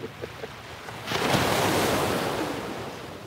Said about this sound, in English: the waves sound amazing today